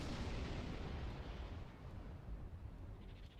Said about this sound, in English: They're shooting off fireworks outside.